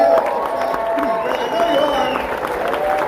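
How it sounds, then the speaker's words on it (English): Comedy club audience in Tempe claps steadily and warmly as the headliner is introduced, a dense, sustained round of applause with some cheering, while a host's voice talks over it through the PA. "Can we keep that applause going as I introduce him to the stage?"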